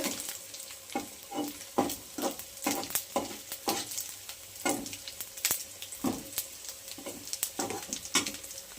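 Onion and garlic fry together in a wok, crackling and sizzling loudly while a utensil scrapes and stirs in a quick, repeated rhythm close by.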